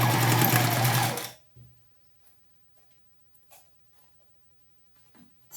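A sewing machine runs a fast, loud whirring stitch along a blouse sleeve for just over a second, then stops, leaving faint handling taps and rustles.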